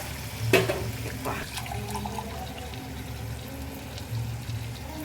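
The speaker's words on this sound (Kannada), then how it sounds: "ಎರಡು ಗ್ಲಾಸ್ನಷ್ಟು ಹಾಕ್ಕೊಂಡಿದ್ದೀನಿ ಬಿಸಿ ನೀರಿದ್ದು ಒಂಚೂರು ಜಾಸ್ತಿ ಹಾಕ್ಕೊತೀನಿ" About two glasses of hot water pour steadily into a pot for chicken keema pulao, a continuous liquid rush with a brief clatter near the start, fairly close and moderately loud.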